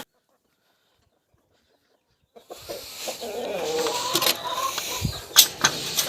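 Chickens cluck and squawk nearby after a couple of seconds of near silence, with scattered rustling and a few sharper calls toward the end.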